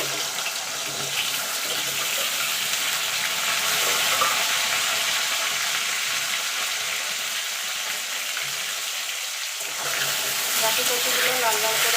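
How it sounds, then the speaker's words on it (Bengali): Gathi kochu (taro) pieces fry in a pan of hot oil for a Bengali vegetarian dish, a steady, dense sizzle and crackle that holds close and even throughout. "এই তেলে গাটি কচুগুলো ভেজে নেব।"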